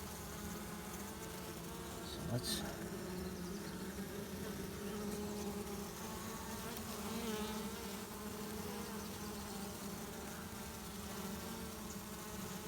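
Honeybees fan at a hive with a dense, steady buzzing drone that stays even throughout, and a voice speaks a few words briefly.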